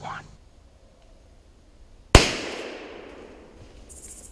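A single loud gunshot during a hunt in the field, one sharp close blast after quiet, followed by a long fading echo.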